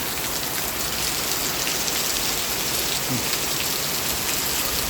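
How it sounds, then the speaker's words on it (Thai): Heavy rain pours steadily with strong wind and thunder, a dense continuous hiss of drops hitting surfaces with no pauses. "ฝนตกลมแรงฟ้าร้องเปี้ยงเปี้ยง"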